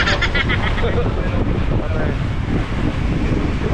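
Strong wind buffets a boat in stormy weather, a steady loud roar with gusting rumble and sea spray noise throughout, while a person talks over it.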